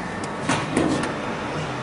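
The heavy door of an industrial aging oven for piston parts slides and thumps shut, two or three dull metallic knocks over a constant hum of machinery, close and moderately loud.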